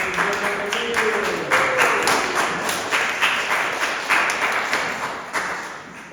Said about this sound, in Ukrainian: Оплески для молодих